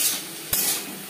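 Bitter gourd (kakrol) tossed with salt and turmeric in a frying pan on a gas flame, a steady bright sizzle with one sharper scrape of the spatula partway through, close and loud with no talk.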